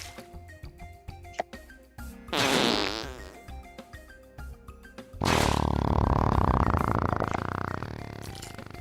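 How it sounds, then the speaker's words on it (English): A loud, long fart attack from the Strange Seed video game comes in two drawn-out blasts, a rippling burst and then a sustained blaring roar. Both sit over busy game music. "The fart kill, man. It gets louder every time"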